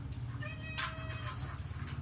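A domestic cat meows a few times, drawn out and close, over a steady low hum and faint background clatter during a home meal.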